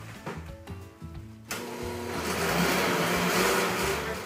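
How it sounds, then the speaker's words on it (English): A kitchen blender whirs up from a few clunks into a loud, steady grinding roar as it blends canned lulo fruit mixture, running continuously to the end. "we will blend for about 1 minute"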